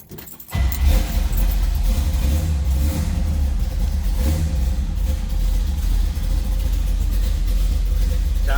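A 1967 Chevrolet Camaro RS with an aftermarket cam fires up and settles into a steady, loud, close idle with a rough low rumble that continues unbroken for several seconds.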